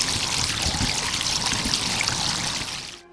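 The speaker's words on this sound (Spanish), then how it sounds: "En este tragante culminan litros de agua potable de una fuga" Potable water from a leak on a street in Mejicanos pouring steadily into a storm drain, a close, loud continuous gush and trickle that fades away at the end.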